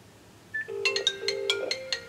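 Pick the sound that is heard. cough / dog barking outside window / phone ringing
phone ringing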